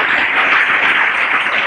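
Church congregation giving a round of clapping, a steady, dense burst of close applause filling the room throughout.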